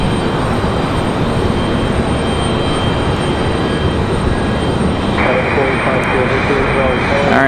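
A United Airbus A319 jet engine roars steadily at Raleigh Durham airport, a loud continuous rumble filling the whole stretch, with talk layered over it.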